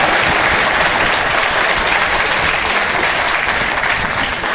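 Loud, dense applause from a large audience at a university convocation ceremony, steady and continuous throughout without pause, with no speech over it.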